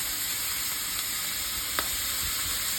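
Pork belly fries in a pan with a steady, close sizzle and a faint soft clink partway through, with no talk.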